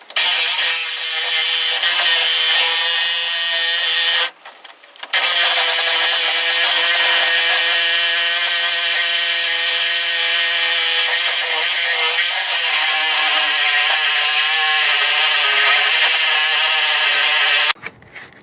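A power saw grinds steadily through a leaf spring bolt and its hardened sleeve on a 1997 Dodge Ram, a loud sustained metallic whine with ringing overtones, broken by one brief stop partway through and cut off at the end.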